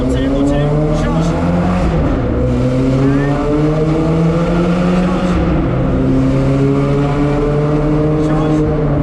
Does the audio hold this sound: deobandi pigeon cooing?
no